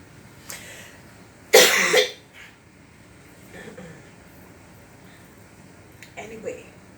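One person coughs hard once, a sharp, loud, close burst, followed by a few softer throat-clearing rasps spread over several seconds against a quiet room background.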